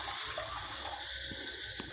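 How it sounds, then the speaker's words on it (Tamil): Water poured into a pressure cooker over soaked chana dal, a steady continuous splashing rush, close and fairly loud, running alone without talk for under two seconds. "இப்போ நம்ம இதில் முழுகிற அளவுக்கு தண்ணி ஊற்றிடலாம்."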